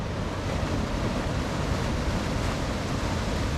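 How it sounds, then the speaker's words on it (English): Water pouring steadily down a series of weirs beside the staircase lock flight at Foxton Locks, a loud, unbroken rushing roar with no letup. "this series of weirs just runs it down through the pounds to the bottom of the locks"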